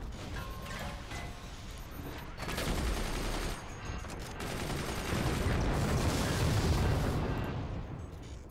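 Cannon fire in the video game Forts, loud booming blasts and rumbling impacts that come in waves and swell and fade over a constant din of battle.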